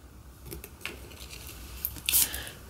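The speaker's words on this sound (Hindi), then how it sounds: "बहुत सारे कार्ड्स हैं थोड़ा सा कार्ड्स को अरेंज कर लें यहां पर" Tarot cards shuffled and laid out by hand for a Capricorn reading: soft papery rustles and light taps, with a brighter crisp slide near the end, close and fairly quiet.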